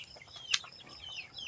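A red hen, kept as a hobby rather than for cockfighting, gives a brief cluck or two close by over a quiet outdoor background.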